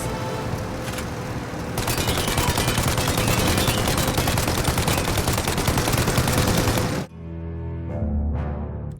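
Sustained, loud rapid gunfire in the Mafia video game during a shootout at a plane, a dense continuous burst that cuts off sharply, then a quieter mechanical rumble.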